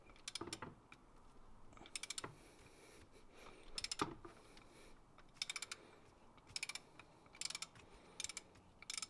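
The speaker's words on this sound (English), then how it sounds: "Next, you need to remove this 14mm fastener on this side as well." A ratchet wrench clicks in short bursts while loosening a 14mm fastener on a Nissan VQ35 engine, quiet and close, with pauses between the runs of clicks.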